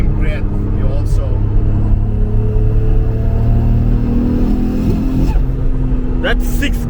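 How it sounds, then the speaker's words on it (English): A modified Nissan Skyline GTR rumbles loudly at high revs, a deep sustained engine drone with shifting pitch while people talk over it. "a modified engine's at high RPM"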